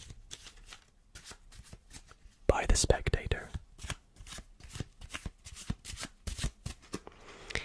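A deck of playing cards is shuffled up close in a quiet ASMR card-magic setting, with crisp riffles and soft slides repeating in quick bursts. A whispering voice talks over the cards.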